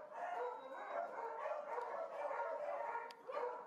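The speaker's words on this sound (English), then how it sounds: "The first job is to check the puppies and feed them." Seven-week-old working beagle puppies yip and whine in a steady, overlapping chorus at close range, with several small voices rising and falling together throughout.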